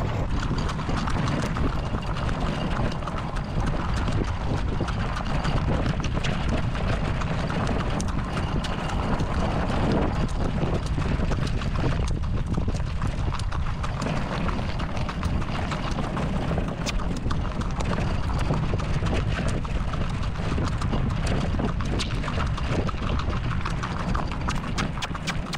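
April the horse's hooves clip-clop while pulling a wagon up a gradual hill on a trail, a continuous rhythmic patter buried under heavy wind and rolling rumble throughout.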